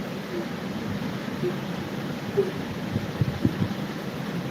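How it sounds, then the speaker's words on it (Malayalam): Strong wind buffeting outdoors, a steady broad roar with occasional louder gusts and faint knocks, close and continuous with no talk. "നല്ല കാറ്റുണ്ട് കേട്ടോ ഇവിടെ"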